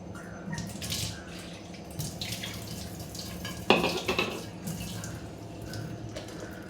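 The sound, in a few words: water poured into mixer jar while cooking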